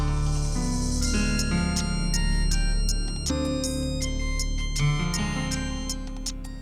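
A mobile phone plays a melodic musical ringtone, loud and continuous, with layered synthesized notes and chiming accents and no talking over it.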